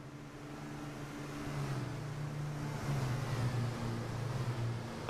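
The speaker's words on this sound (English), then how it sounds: "A distinctive flat sound as the trucks rumble past the pits." Racing trucks in a video game rumble past the pits at Zolder, giving a low, flat, steady engine drone that swells slightly as they pass, with no voices.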